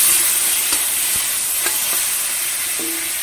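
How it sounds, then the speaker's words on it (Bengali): Drumstick pieces and tomato are stirred in a frying pan, giving a loud, continuous sizzle with occasional scraping knocks of the spoon and no voices. "এই সজনে ডাঁটা টমেটো যেটা রয়েছে সেটাকে দিয়ে একটুখানি হালকা করে নেড়ে চেড়ে নেবো"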